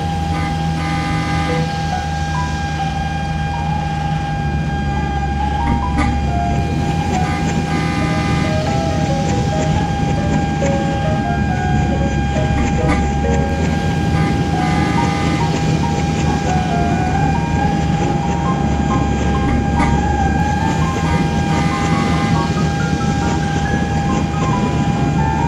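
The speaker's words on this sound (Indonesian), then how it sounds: "ini adalah lokomotif CC206" A KAI CC206 locomotive drones steadily and loudly with a sustained engine hum and tonal whine throughout, heavy and close, with a faint rhythmic rumble beneath.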